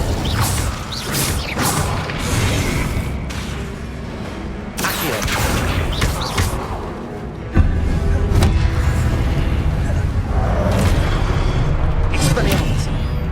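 Spell blasts and impacts in the Hogwarts Legacy video game during Percival Rackham's trial, loud booming explosions and mechanical clatter layered densely across the span, with a shouting voice over the effects.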